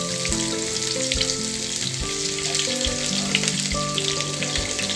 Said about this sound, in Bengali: কেটে রাখা পেঁয়াজগুলো দিয়ে দিচ্ছি।